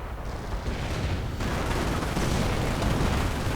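Flak cannon and mortar fire in a WWII real-time strategy game, with an Ostwind anti-aircraft tank engaging American troops, form a dense, loud, unbroken barrage of blasts and rumbling booms that swells after the first second.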